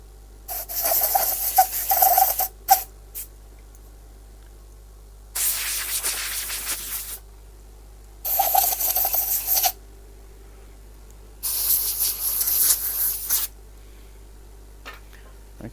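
Sandpaper rubbing against a woodturned piece, likely spinning on a lathe, in four separate bursts of steady abrasive hiss, each a second or two long, with quiet pauses in between.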